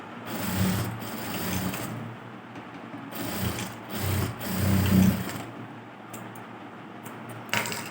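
A sewing machine stitches a blouse shoulder seam in close, loud bursts of rapid mechanical whirring, pausing briefly between runs and finishing with a short clack.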